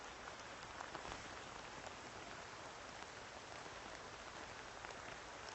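Heavy rain pours steadily over Puget Sound at Mukilteo, a dense, even hiss with no breaks. It is faint overall and no voices are heard.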